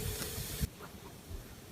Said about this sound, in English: You can see how much steam is coming up from the boiling trough there as I add the hot rocks